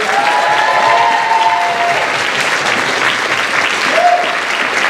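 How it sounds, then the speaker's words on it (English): A community theatre audience at a Snow White production breaks into loud, sustained applause for an actor, dense clapping close and full with a brief whistle or cheer cutting through. "How about a big round of applause for our first timer in this production"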